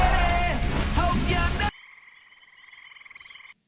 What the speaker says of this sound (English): this chirping of crickets lasts literally 15 seconds of movie time